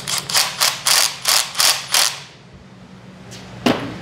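A ratchet wrench tightens a 10mm-head bolt on a HEMI engine's camshaft timing chain setup, giving six quick, close, evenly spaced clicking pulls followed by a pause and a single metallic clunk.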